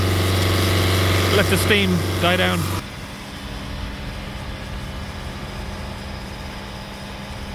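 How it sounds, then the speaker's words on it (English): A Honda Civic engine with fault code P24A4 (particulate matter accumulation excess) holds a high, steady drone for a few seconds under a voice, then cuts to a quieter, lower idle. "Just going to hold the revs on it for a while"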